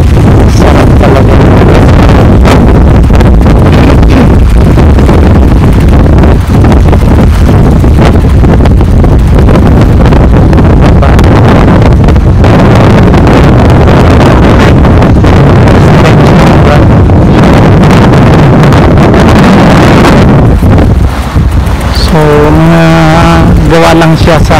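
Wind buffets the microphone while cycling along a bike lane in Bali, a loud, steady roaring rumble that runs the whole time, with a brief tonal whine near the end.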